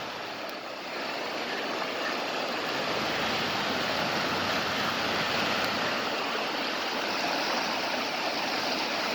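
Floodwater rushes over a submerged road bridge after heavy rain, a loud, continuous, roaring wash of turbulent water that holds steady throughout, with no voices.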